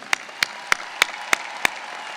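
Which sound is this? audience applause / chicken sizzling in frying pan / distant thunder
audience applause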